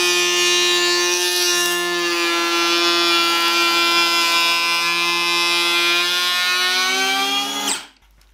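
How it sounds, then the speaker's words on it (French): Makita DKP180 cordless electric planer taking a 2 mm pass along oak, a loud steady high-pitched whine with a slight downward drift, cutting off abruptly at the end. "vous venez me voir faire un passage, j'avais réglé le rabot sur 2 mm de passe"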